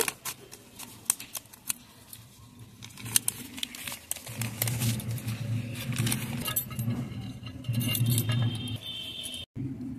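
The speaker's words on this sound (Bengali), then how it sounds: "তারপর এই প্যাকেটগুলো আমি আলগা করে কেটে নেব।" Crinkly plastic packets being cut open with scissors while preparing potting soil for petunias, continuous close rustling and crackling with sharp snips, growing busier toward the end.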